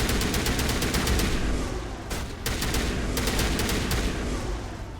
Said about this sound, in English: I think I chucked a grenade by accident